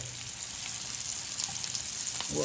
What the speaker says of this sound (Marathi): इकडे आणखी पापलेट फ्राय करते